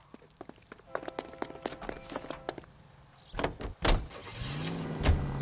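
A car door opening and shutting, then the engine starting and the car pulling away in L.A. Noire, with clicks and thumps followed by a rising engine note and voices talking.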